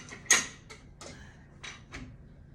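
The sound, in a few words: long arm quilting frame front bar being pulled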